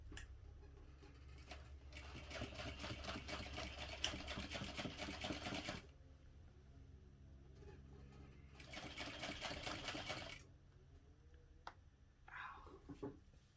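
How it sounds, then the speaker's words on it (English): A sewing machine backstitches a backpack handle in rapid, rhythmic bursts of stitching, with two long runs separated by pauses filled with faint handling noises and a short final burst. "I'm going to backstitch over that as well."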